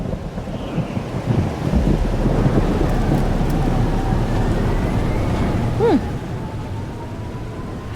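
A thunderstorm in the video game Life is Strange: Double Exposure: a steady, loud roar of wind and rain with low rumbling throughout and a brief gust near the end, with no voices.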